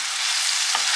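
Onion and garlic frying in a pan while being stirred: a steady, loud broadband sizzle throughout, with a brief scrape of the utensil near the end and no speech.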